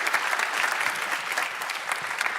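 Audience applause welcoming a speaker to the stage at a global sustainability challenge finale, a steady, dense wash of many hands clapping throughout without pause.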